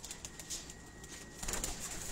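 A Bateray pigeon on a rooftop coos softly, low murmuring calls under faint background noise, with a light flutter toward the end.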